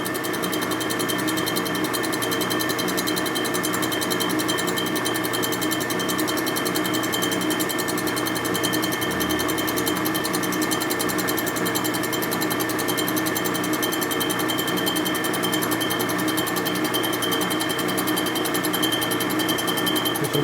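A milling machine takes a light one-thousandth pass across the gasket face of a 1981 Harley-Davidson XL Sportster 1000cc ironhead cylinder head, giving a loud, steady, continuous mechanical whirring and chattering hum throughout with no pauses.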